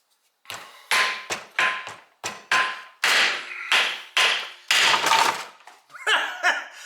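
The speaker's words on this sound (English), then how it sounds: "Let's see if I can get these off with the chisel." Repeated hammer blows on a chisel, striking front-end parts of a 1968 Pontiac GTO A-body clamped in a vise, about ten sharp metallic hits in an uneven rhythm, loud and close with no talking.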